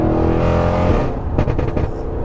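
Audi RS6 with a 700 bhp V8 and Armytrix stage 2 exhaust, a loud deep engine drone from inside the car that eases off into a few crackling pops.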